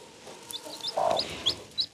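Newly hatched chicks give thin, high peeping calls while a hen answers with low, close clucks, all fairly faint and outdoors.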